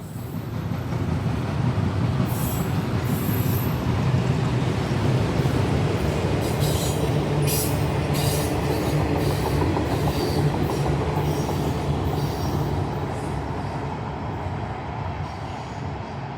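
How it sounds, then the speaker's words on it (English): A long auto rack freight train rolls steadily past nearby at Taylorsville Metro Park, Ohio, its wheels clacking rhythmically over the rails with a constant heavy rumble and occasional faint squeals. "Now that the auto rack train had passed"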